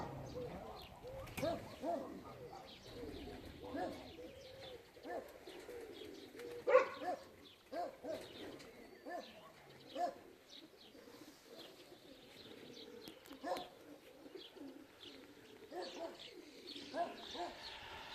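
Pigeons near a pigeon loft at a Kalvarija racing return coo softly in repeated low bursts at middle distance, with occasional louder wingbeats or calls and scattered background noise, mostly without talk.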